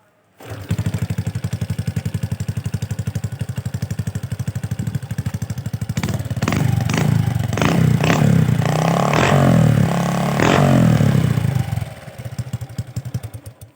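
A Honda Wave 110i motorcycle with off-road styling idles nearby in a village, running a steady low putter before the revs rise briefly and settle without being fully revved, with no talking.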